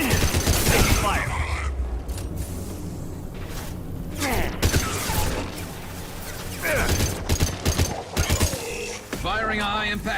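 Mass Effect 2 firefight with bursts of gunfire and crashing impacts coming and going, voices speaking between and over the shots.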